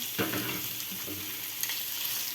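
Potatoes frying with fish roe and milt give a dense, continuous sizzle in the pan, broken by a few scraping stirs of a spoon over a short stretch.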